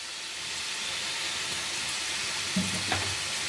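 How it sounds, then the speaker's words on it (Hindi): Gujiya frying in hot oil gives a steady, close hiss of sizzling with a few soft bumps and stirring clicks near the end, and no voices. "ऑयल अच्छे से गर्म होनी चाहिए वरना ये फटना शुरू कर देगी। तो जितनी भी गुजिया एक राउंड में आ रही हो डाल दीजिए"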